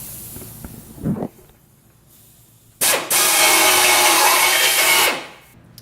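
A step drill bit bores a hole in steel while a TeraFlex rock slider is installed, a steady loud whine of about two seconds after a short earlier burst, alone without talk.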